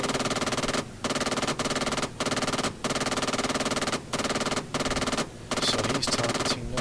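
An AI gunner fires a helicopter machine gun in Arma 3, with long, sustained bursts of rapid automatic fire broken by brief pauses of under a second, loud and close throughout.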